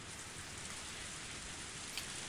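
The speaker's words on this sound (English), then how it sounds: "The sound of falling raindrops was fierce as always." Steady rain falling in the video game Higurashi When They Cry, a dense even hiss of drops with no pauses, at moderate loudness and heard on its own.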